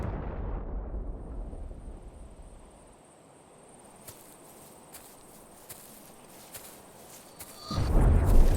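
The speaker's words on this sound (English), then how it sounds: "Was that an explosion?" A deep, rumbling video game explosion boom fades into a low hiss with faint high insect-like chirping, then another heavy rumble swells loudly at the end.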